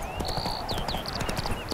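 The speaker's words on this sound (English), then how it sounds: "Oh, my horse is back somewhere here." Horse hooves clip-clop in a quick irregular rhythm in The Witcher 3 video game, moderately loud over outdoor ambience with high chirping bird-like calls.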